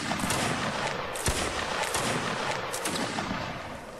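Dense musket volleys crackle and roll in a Napoleonic Wars line-battle video game, a loud continuous wash of overlapping gunfire with a sharper shot standing out, no voices heard.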